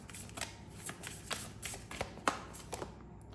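Tarot cards are shuffled by hand in soft, rhythmic riffles and taps, repeated about a dozen times, close but faint.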